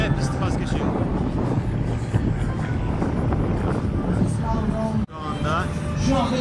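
An aerobatic airplane makes a low pass over the runway at the Eurasia airshow 2018, its steady engine roar filling the scene under a commentator's continuous talk, with a brief drop near the end.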